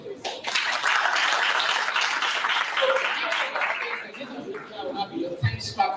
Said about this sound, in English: Clap for yourself, please